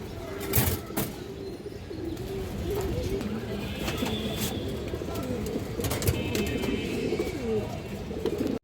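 Indian high flyer kaldam pigeons cooing in a loft, soft repeated throaty coos running continuously and fairly close, with a few brief sharp noises and background sounds.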